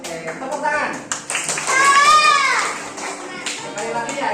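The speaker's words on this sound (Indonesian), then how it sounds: "Oke, tepuk tangan." Schoolchildren in an Indonesian classroom clap their hands together amid lively chatter and voices, a brief loud burst of clapping mixed with excited group noise.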